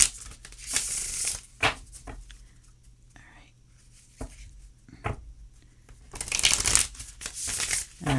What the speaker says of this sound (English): they want me to shuffle them a couple more times